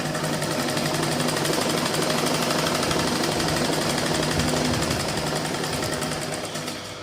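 A sewing machine stitching a blouse, running in a fast, dense, steady mechanical rattle, close and loud, slowing and fading slightly at the very end, with no talk.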